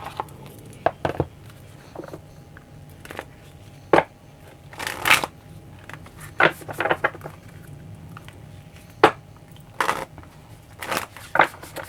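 Moonology Oracle cards are shuffled by hand, giving scattered soft riffles, slaps and taps in irregular bursts over a quiet room tone.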